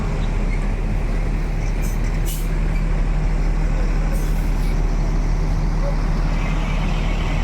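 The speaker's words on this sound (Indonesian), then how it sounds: "satu unit Palala Motegi bus perdana yang sampai di Terminal Kampung Rambutan" A Palala Motegi bus idles at Kampung Rambutan bus terminal during the post-Lebaran return travel, with a loud, steady low diesel rumble and faint brief hisses above it.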